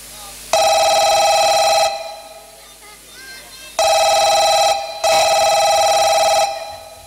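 A phone rings in three long electronic bursts separated by short pauses, loud and close, with faint sounds between rings.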